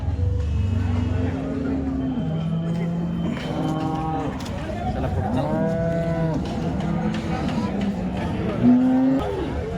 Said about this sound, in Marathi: कालवड आहे